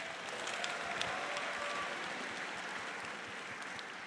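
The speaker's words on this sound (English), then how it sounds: "So let's give them a round of applause." An audience at a 2019 UCR Black graduation ceremony applauds the African Student Programs Office, a steady wash of distant, soft clapping sustained throughout.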